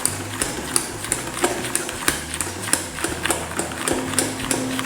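Batter for fried shrimp being stirred in a bowl, giving a steady run of close, sharp clicking taps as the utensil strikes the sides, with no talk.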